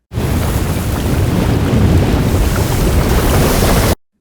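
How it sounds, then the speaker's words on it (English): A dense, steady bubbling roar, like water at a rolling boil, holds loud and even for about four seconds, then cuts off. "water boiling,"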